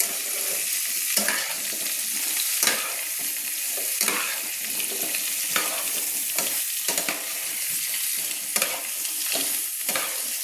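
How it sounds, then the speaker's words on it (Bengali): Kohlrabi being stirred with a spatula in hot oil with salt and turmeric for a vegetarian winter curry, giving a steady close sizzle with repeated scraping strokes of the spatula against the pan. "এইভাবে একটু ভালো করে তেল আর লবণের সঙ্গে আমি ভালো করে ওলকপিগুলো নেড়ে নিচ্ছি"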